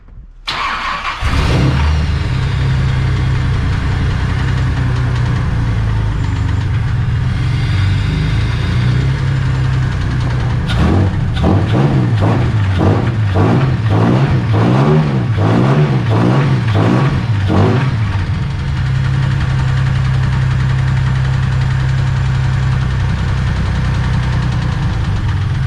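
A homebuilt Ecotec LS swap fires up and settles into a steady idle, then revs in a quick series of rhythmic blips before dropping back to a loud, close, continuous idle. No voices are heard.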